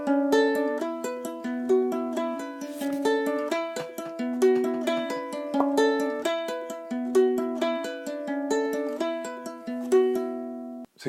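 Ukulele in P&S tuning picks the rosemary riff from Scarborough Fair, a steady run of plucked, ringing notes that overlap and linger, played alone at moderate volume throughout.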